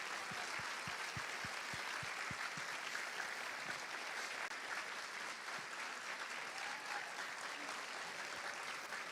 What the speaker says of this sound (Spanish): pedimos un fuerte aplauso para Alberto Mayol Miranda